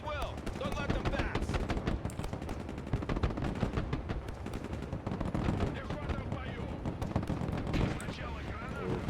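Dense rapid gunfire and machine-gun bursts fill a Broken Arrow battle mission set in the Baltic, with continuous loud crackling shots and heavy booms layered under radio-style voices.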